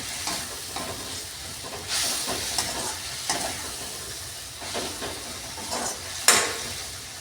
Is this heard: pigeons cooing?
no